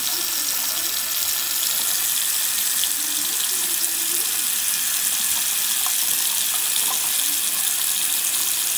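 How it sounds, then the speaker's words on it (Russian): Cold water running steadily from an open kitchen tap, a continuous even hiss with no pauses, close and alone with no talking. "Открываю кран и смотрю, с него текёт розовая вода, ребята."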